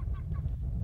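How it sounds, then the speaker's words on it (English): Seagulls call in short nasal squawks, two or three quick cries heard faintly over heavy low wind rumble outdoors on a boreal forest lake. "These seagulls are laughing at us constantly."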